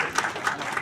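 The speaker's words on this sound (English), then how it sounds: "Please welcome our Honorable Vice Chancellor with huge round of applause." An audience at an international seminar at BBAU Lucknow applauds briefly in welcome, giving a short, steady patter of clapping hands under a second long.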